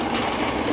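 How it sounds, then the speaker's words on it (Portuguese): A farm machine grinding corn for pamonha gives off a steady, loud mechanical whir and rasp for a brief moment, with no voices. "Fazenda moendo milho para fazer a pamonha"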